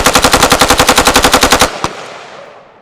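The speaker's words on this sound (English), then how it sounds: "That's a normal AK-47." An AK-47 rifle fires at an outdoor range, a loud rapid burst of about twenty evenly spaced shots, then one final shot and a fading echo.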